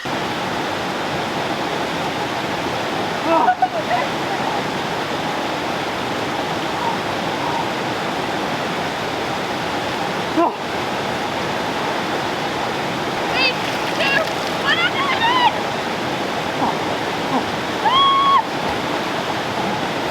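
People getting into an ice-cold outdoor pool while camping in Portugal, with steady rushing and splashing water throughout and a few brief voices and exclamations over it.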